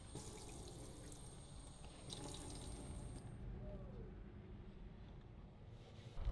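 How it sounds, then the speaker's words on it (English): Steady rush of water pouring from opened hot and cold taps in a camper, continuous and fairly close, with a faint clunk near the end. "opening both the hot and cold water until no more water is running out"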